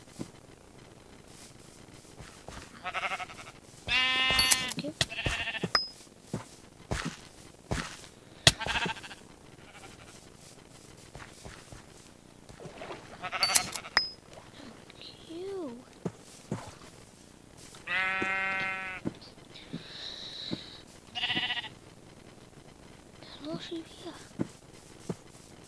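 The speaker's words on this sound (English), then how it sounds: "Actually, I need the sheep." Minecraft sheep on a Hypixel server, bleating in several short wavering calls spread across the stretch, mixed with clicks, footsteps and other game sounds.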